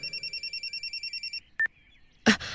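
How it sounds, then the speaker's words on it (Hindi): An old-style telephone bell rings in a rapid, even burst of about a dozen trills, then stops, followed by a couple of short clicks and a louder bump. "और तभी मेरा फोन बजा।"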